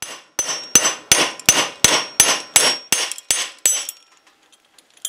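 Nail rivets are hammered into a Roman gladius scabbard: ten sharp metallic strikes land in a quick, even rhythm, close and loud, with ringing tails. The blows stop about a second before the end.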